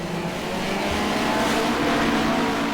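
Classic hot rod race cars scream down the straights of an oval race track, a loud, sustained high-pitched engine roar that holds steady throughout with no break.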